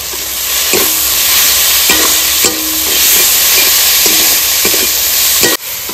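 Spice paste of onion, tomato, ginger-garlic, green chilli, salt and turmeric frying for hilsa curry: a loud, dense sizzle close by, with regular dull knocks of a spatula against the pan.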